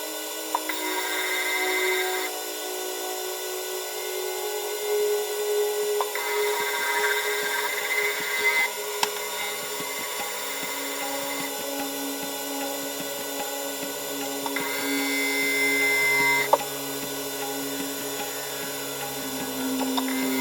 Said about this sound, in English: this is just for you again to see the process of what happens when you're polishing